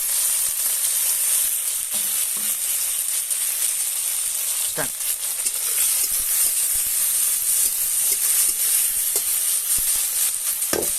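Onions and then tomatoes fry in a pan for homemade desi-style Hyderabadi chicken dum biryani, giving a steady close sizzle and hiss with a few faint stirring clicks and no talk.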